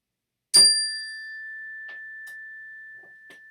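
A single bell strikes once, sharp and clear, then its pure tone rings on and slowly fades over a few seconds, with faint scattered noises in the quiet background.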